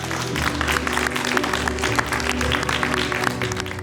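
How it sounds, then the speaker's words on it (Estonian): A crowd applauds at a youth landscaping competition awards ceremony, with loud, steady, dense clapping that fills the room evenly from start to finish over a low background hum. "teeme suure aplausi"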